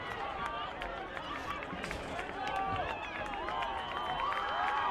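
A crowd of fans cheering at a boys soccer Class AAA championship between Syosset and Plainview at JFK, a continuous roar from distant spectators with whistles and shouts, under an announcer's voice.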